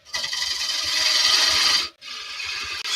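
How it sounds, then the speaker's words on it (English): A woodturning gouge takes super light cuts on a lathe, a continuous rasping scrape that pauses briefly before resuming, close and loud, with the tool held far over the tool rest and starting to vibrate. "Super light cuts in now because the gouge is quite a long way over the tool rest"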